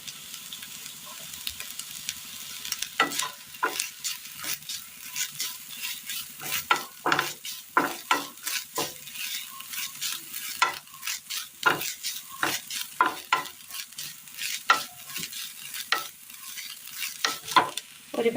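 Grated coconut and shallots frying in oil in a pan, a soft background sizzle broken by frequent sharp scraping clatters of a spoon stirring against the pan, irregular and close.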